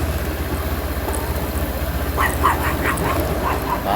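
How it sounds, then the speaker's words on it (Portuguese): A dog barks repeatedly at a car beside a dirt road near a small village, a quick run of yips and barks over the steady idle of the engine. "Para, cachorro."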